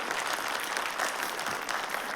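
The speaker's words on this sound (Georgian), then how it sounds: "აპლოდისმენტები ბუჩუკურებს" An audience claps for young twin sisters on a show, a dense steady burst of applause lasting a couple of seconds with no voices on top.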